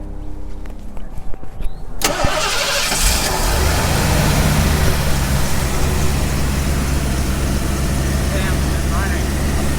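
Engine of a 1984 Zimmer Golden Spirit Coupe, a motor shared with a Factory 5 Shelby Cobra remake, catching after a short crank and settling into a steady, quiet idle; it keeps a smooth continuous hum with people talking nearby early on.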